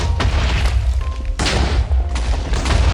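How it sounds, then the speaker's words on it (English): Huge dynamite blast tearing apart a house in Minecraft, a deep booming roar with a sharp burst at the start and fresh explosive surges partway through, loud and continuous throughout with no talking. "Such an incredibly big explosion is happening."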